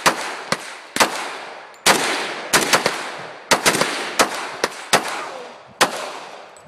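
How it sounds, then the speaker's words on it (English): AK rifle fired at an outdoor shooting pit: about a dozen sharp, loud reports in an irregular string with ringing decay between shots, close by and with no talk over them. "Count how many shots? Just keep going,"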